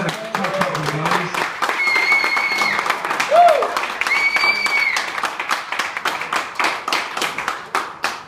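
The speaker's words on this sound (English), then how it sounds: "Give him a big round of applause." An audience at an Everton FC legends event in Bangkok gives a sustained round of applause, many hands clapping in a dense, lively patter nearby, with a few voices and a brief whistle-like tone over it.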